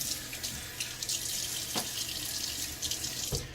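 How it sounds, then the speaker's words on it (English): Tap water runs steadily into a bathroom sink as a man wets his face before a shave, a close, continuous rushing splash with a few small bumps and no talk. "Wet my face again."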